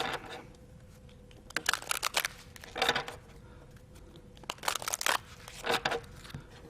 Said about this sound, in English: Then I'm going to take these 2 sections and shuffle them together.